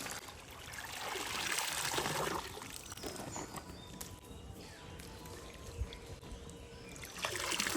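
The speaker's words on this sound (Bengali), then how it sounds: "তো চলো ফার্স্টে পটলগুলোকে ধুয়ে নিই" Pointed gourds are rinsed by hand in green pond water, with close splashes, trickling drips and sloshing that swell and ease over several seconds.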